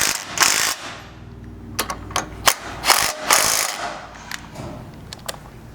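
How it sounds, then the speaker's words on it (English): Ratchet wrench tightening the side and top mounting bolts on a rear bumper bracket of a Jeep Wrangler JL, with bursts of close, loud clicking separated by short pauses and a few metallic knocks. "Then you can tighten both the side and top mounting bolt."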